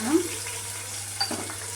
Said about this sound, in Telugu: ఉల్లిగడ్డ సగం ఉడికిన తర్వాత టమాటాలు యాడ్ చేయాలి.